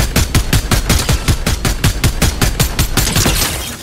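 Rapid automatic gunfire in Fortnite, a loud close burst of about sixteen evenly spaced shots in quick rhythm over roughly three seconds, then tailing off into a fading echo.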